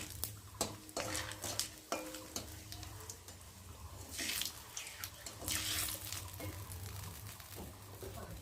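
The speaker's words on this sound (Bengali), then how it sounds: "শুকনো লঙ্কা দিলাম, আর দুটো তেজপাতা ছিঁড়ে দিলাম, দিয়ে একটু ভালো করে নাড়বো" Dried red chillies and torn bay leaves with cumin are stirred in a pan, with scattered metallic scrapes and clinks of a spatula over a steady low background hum and faint sizzle.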